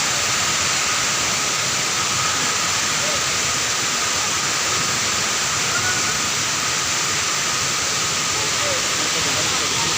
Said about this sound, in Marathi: आमी आतां फर्स्ट धबधब्या कडेन पावले